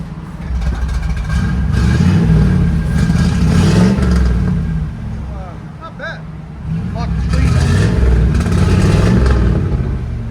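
A barely running Camaro IROC-Z with open headers, on old gas left sitting three years, rumbles loud and close, swelling in two revving surges with a brief dip between, while people talk over it.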